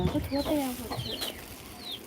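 Native country chickens cluck at feeding time, with soft repeated clucks close by over a busy farmyard background while a person talks.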